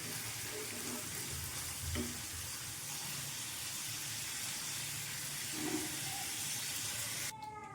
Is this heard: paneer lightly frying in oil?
yes